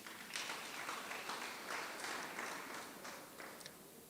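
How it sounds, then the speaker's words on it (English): A graduation ceremony audience at a TVET college claps together in a steady round of applause, heard at a distance and fairly soft, with a few sharper claps standing out near the end. "A round of applause to yourselves."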